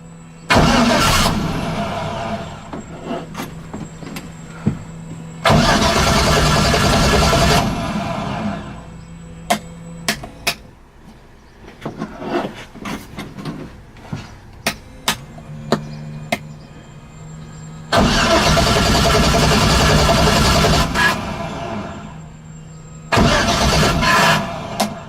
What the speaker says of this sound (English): we're gonna go ahead and fire it up with the exhaust for the first time